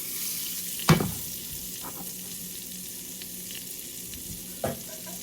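Butter sizzles and crackles steadily in a frying pan as it is swirled to coat the bottom, close and continuous, with a couple of soft knocks of the pan.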